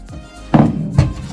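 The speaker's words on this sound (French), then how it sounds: "je lâche la balle et je la tire" A foosball shot on a table: two sharp, close wooden thunks about half a second apart, as the ball is released and then struck hard, over a quiet background.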